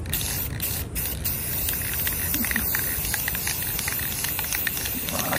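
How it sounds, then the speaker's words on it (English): Rust-Oleum 2X Ultra Cover paint and primer sprays onto an antique bankers desk with a steady, close hiss, broken by a few short pauses and faint clicks of the nozzle. "First coat of Rust-Oleum 2X Ultra Cover Paint and Primer."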